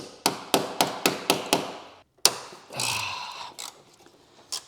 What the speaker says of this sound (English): When in doubt, hammer and hand tools.